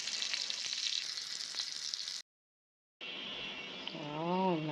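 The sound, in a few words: chicken balls frying in oil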